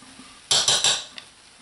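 A spoon scrapes and stirs homemade lard lye soap in a pot, giving a quick burst of three close, scratchy strokes followed by faint clinks.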